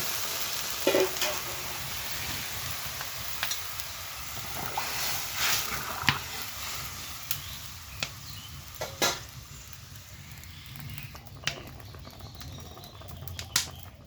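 Hot water is poured into a frying mustard paste mixture for a banana mustard-paste dish, giving a crackling sizzle with scattered sharp pops and spatters over a low hiss, close and moderately loud.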